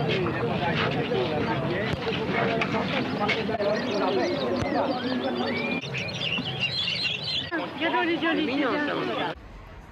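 Birds chirp and twitter throughout the historic bird market on the Île de la Cité in Paris, a dense, busy chorus of many small calls mixed with crowd babble and general market bustle, cutting off near the end.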